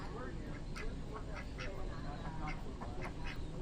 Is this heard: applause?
no